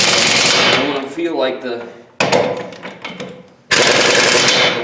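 A 1-inch pneumatic impact gun tightening a fitting on a DT466 beverage truck, loud rapid hammering bursts in three long runs with brief gaps, a voice talking over the start.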